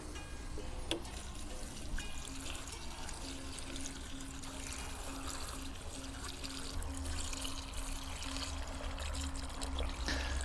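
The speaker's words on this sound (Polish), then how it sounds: "jedyne co jeszcze zostało, to po prostu wypełnić wiaderko wodą" Water running steadily into a bucket packed with comfrey leaves for making plant fertilizer, a continuous close trickling and splashing pour lasting throughout with no talk.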